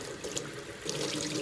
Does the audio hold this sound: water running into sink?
yes